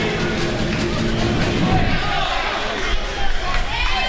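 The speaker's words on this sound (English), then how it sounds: "And you hear the San Antonio crowd." A San Antonio basketball crowd at a championship game reacts to a missed shot with a loud, swelling roar and scattered cheers. Courtside commentary runs over it, and thuds and sneaker squeaks sound close by.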